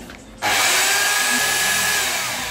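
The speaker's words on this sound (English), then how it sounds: "And drill the marked points." A power drill kicks on abruptly and whines steadily at high speed, drilling into a wall, loud and close, grinding on without pause.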